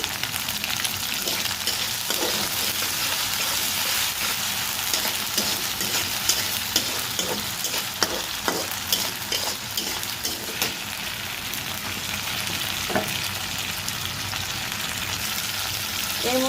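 Hot oil sizzles and spatters steadily while chapila fish is cooked for a curry, a dense continuous crackle with scattered sharper pops, close and fairly loud throughout.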